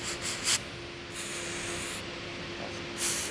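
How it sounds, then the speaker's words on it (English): Short hissing bursts from an aerosol can of lubricant spray, a couple of quick puffs then a longer steady spray, close up, with a faint hum underneath. "I'm going to work it back and forth with some lubricant spray."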